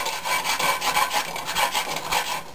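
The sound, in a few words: wooden scraper scraping a cast iron pan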